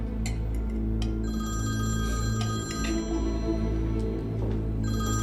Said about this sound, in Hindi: मिस्टर कमाल, आपके लिए फोन है।